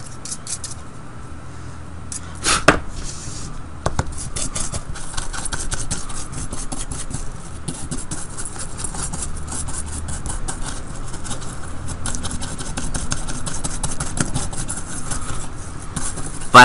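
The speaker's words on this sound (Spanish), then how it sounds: "con un trapo también podemos limpiar el polvo que tenga acumulado por los lados" A cloth rubs dust off the sides of an opened laptop, a steady close scratchy wiping that runs the whole time with a few sharper knocks and scrapes.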